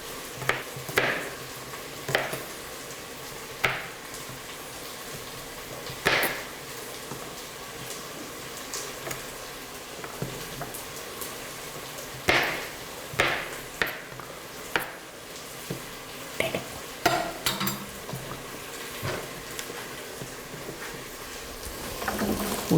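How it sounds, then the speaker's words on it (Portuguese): Chicken thighs fry in a pan, with a steady low sizzle broken by scattered clinks and taps of a utensil against cookware at close range. "O nosso franguinho ali está fritando, terminando de fritar, do jeito que eu quero."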